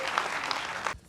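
Audience applause fills a short moment, a dense, steady burst of clapping that cuts off abruptly after about a second.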